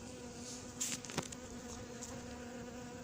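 Honeybees returning to a hive at an apiary in Crosne: a soft continuous buzzing drone near the entrance, quiet and steady, with a couple of faint brief knocks.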